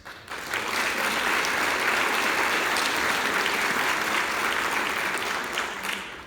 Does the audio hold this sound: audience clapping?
yes